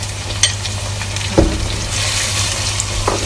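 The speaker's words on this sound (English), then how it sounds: "So here we have our onions frying away." Onions and garlic fry in a pan with a steady, close sizzle, broken by a few soft clicks and scrapes of stirring, with no talking.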